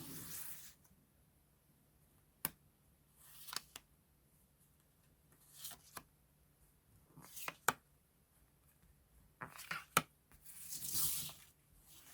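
Tarot cards are handled and drawn in a quiet room: sparse papery swishes, flicks and soft slaps come in irregular bursts between long silences, close and gentle, with no speech.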